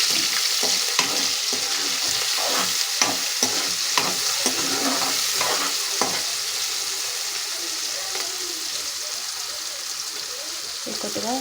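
Onions and curry leaves frying in a pan, stirred with a spoon: a constant sizzle with repeated scraping stirs in the first half that stop later, leaving steady frying, close and loud.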